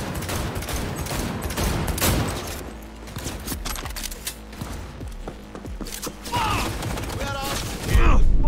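Rapid gunfire bursts in the video game Cyberpunk 2077, repeated shots and clattering mechanisms over a busy game soundscape, with a thump near the end.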